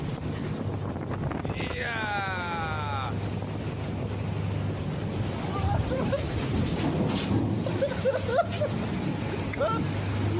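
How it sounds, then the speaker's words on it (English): Huge waves strike a commercial ship in the middle of the Pacific Ocean amid loud, continuous wind roar and rushing water, with brief high whistling sounds heard over the din. "This commercial ship was caught by huge waves in the middle of Pacific Ocean."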